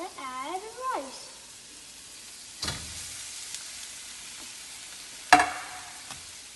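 Rice for veg fried rice sizzles in a hot pan, a soft steady frying hiss broken by a few sharp clanks of a spatula, and a brief voice sounds near the start.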